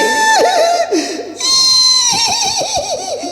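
A performer's voice imitates a donkey braying with loud, wavering hee-haw cries rising and falling in a rapid series over about three seconds, set in a Ramlila stage dialogue at a fair.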